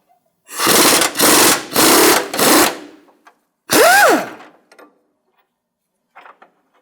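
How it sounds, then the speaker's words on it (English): Work on a Jeep Compass control arm bolt with a wrench and socket brings four loud, close bursts of rapid mechanical rattling, then a single shorter whining burst and a few faint clicks before quiet. "Now I'm going to remove the vertical bolt back here that goes through what they call the hockey puck bushing."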